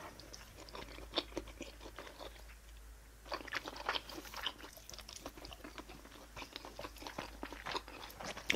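Salmon gimbap is bitten and chewed up close, with repeated soft crunches and wet mastication sounds in a steady rhythm, quiet and without talk.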